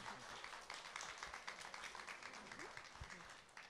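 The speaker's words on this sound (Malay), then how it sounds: "Tepukan." Audience applause at a ceremony for a heritage day event, a steady dense wash of clapping held throughout at a distance and fairly faint, with no clear talk over it.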